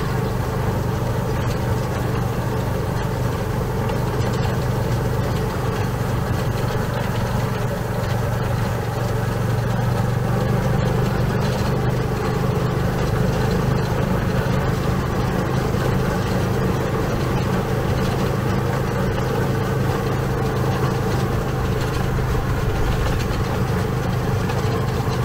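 A motorcycle taxi engine runs steadily throughout a village tour on Coconut Island, a continuous, moderately loud drone with light rattles and clicks and no talking over it.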